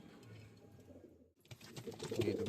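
Pigeons kept for sale coo and rustle in a loft, a soft low murmuring that briefly drops out before resuming louder with busier flutter and calls close by.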